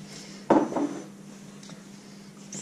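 A spoon folds cake batter in a bowl, with one clear scraping knock against the bowl followed by a softer drag, then quiet; no talking.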